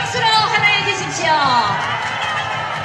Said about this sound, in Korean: 함께 박수로 환호해 주십시오